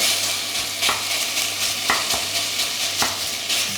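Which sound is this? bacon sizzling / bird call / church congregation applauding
bacon sizzling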